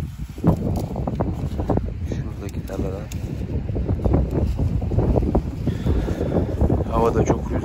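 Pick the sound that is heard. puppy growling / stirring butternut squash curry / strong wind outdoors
strong wind outdoors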